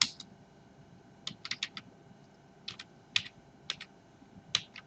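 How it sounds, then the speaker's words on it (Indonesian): Computer keyboard typing in irregular short bursts of crisp, close key clicks separated by brief pauses, over a faint background hum with no talking. "saya bisa ketikkan seperti ini"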